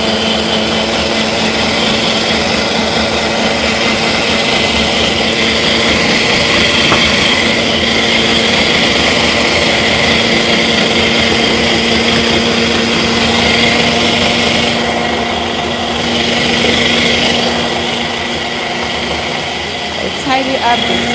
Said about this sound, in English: So I'm gonna go ahead and blend this. It's gonna make some noise